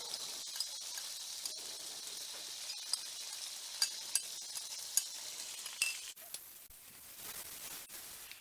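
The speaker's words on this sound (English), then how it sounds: "we're going to cook these until the onions become translucent" Freeze-dried onions and peppers cooking in a pan, a soft continuous sizzle with occasional faint clicks and stirring taps, steady and fairly quiet, easing off near the end.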